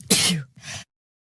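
A single close, loud sneeze starts with a sharp burst and ends in a shorter trailing exhale, then silence.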